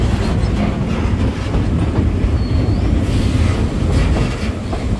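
An old-style passenger train running on rails in Australia, with a steady, loud rumble and clickety-clack of wheels on track throughout, heard from on board without talk.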